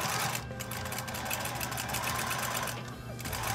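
A sewing machine stitches the seam of an A-line skirt's waistband, a fast steady mechanical chatter running close and continuous, with brief shifts in pace.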